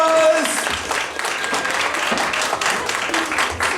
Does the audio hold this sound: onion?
no